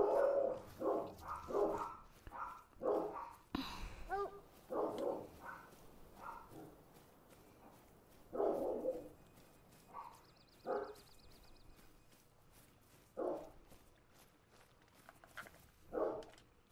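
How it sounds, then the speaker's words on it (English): A dog barks in a long run of sharp, repeated bursts, some doubled, at a moderate distance, with quieter gaps and softer yips between them. "now my dog's going off."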